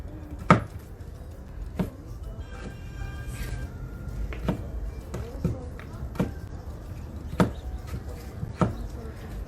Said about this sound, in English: I'm also going to cut up the onion and throw that in as well